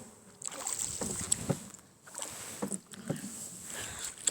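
A boat moves across choppy, wind-rocked lake water at Pokhara, with a steady wash of water noise and scattered knocks and splashes against the hull throughout, close and fairly even in level.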